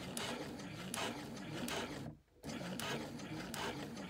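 A sewing machine stitches a tote bag over a bulky handle seam, a quiet, steady mechanical whir with a regular ticking rhythm, briefly pausing midway before continuing at the same pace.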